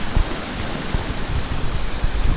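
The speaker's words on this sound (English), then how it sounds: "And these big waterfalls." Big waterfalls along a creek on a forest trail give a steady, broad rushing roar of falling water, continuous and moderately loud, with no voices.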